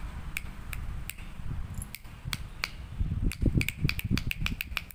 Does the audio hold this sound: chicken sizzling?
no